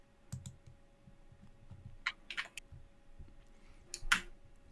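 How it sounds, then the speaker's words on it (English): Computer keyboard typing from stream runners during a live broadcast, heard as sparse, faint clicks and clacks in short irregular bursts, with a few sharper keystrokes standing out against a quiet background. "I can hear the stream runners typing"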